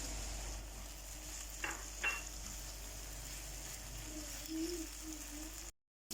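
Cooked chicken for street-style shawarma is fried in a tablespoon of oil, a faint steady sizzle with a couple of brief stirring knocks, quiet and close, ending in a short cut-out.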